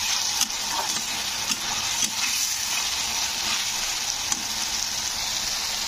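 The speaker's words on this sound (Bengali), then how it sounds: "আর এই যে দেখো আলুটা ভাজতে বসিয়েছি।" Potatoes fry in a pan in a home kitchen, giving a continuous loud sizzle and crackle with occasional stirring scrapes. No one speaks over it.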